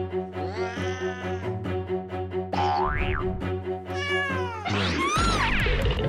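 A cat meows several times over a steady tonal hum, with a rising, springy cartoon-like boing and other synthetic effects mixed in, fairly loud throughout.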